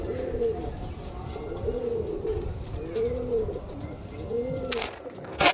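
Pigeons, including native birds, at a pigeon sale and show in Howrah coo close by in a steady, repeating pattern of low throaty calls, about four rounds, ending with a brief rustle or flap.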